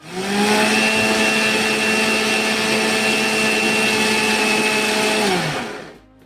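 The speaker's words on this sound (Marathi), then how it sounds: "या पद्धतीने आपल्याला ते मिक्सरमधून फिरवून घ्यायचे आहे" A kitchen mixer grinder churns cream into butter for making ghee, a loud steady high-pitched whirring motor held for about five seconds before winding down and stopping.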